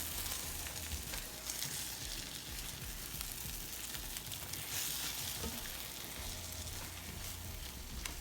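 Soft scrambled eggs frying in a pan with a steady, close sizzle and crackle that runs unbroken throughout, with occasional light scrapes.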